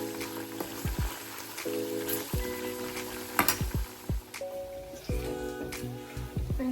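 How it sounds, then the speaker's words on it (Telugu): Ginger garlic paste fries gently in oil over low heat for a chicken pickle, a soft, steady sizzle with occasional stirring clinks under quiet background music. "జింజర్ గార్లిక్ పేస్ట్ వేసా కదా అది ఆయిల్లో కొంచెం ఫ్రై అవ్వనివ్వండి"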